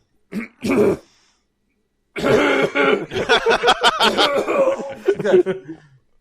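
A person gives a couple of short throat-clearing coughs, then a longer burst of rough coughing with chuckling breaths, close and loud, with brief silence between.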